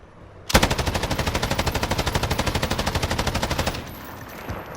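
An M249 SAW (Bruin) machine gun in the video game Call of Duty Modern Warfare fires one loud, steady, rapid burst of about three seconds, each round distinct, then it stops abruptly.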